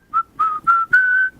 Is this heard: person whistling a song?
yes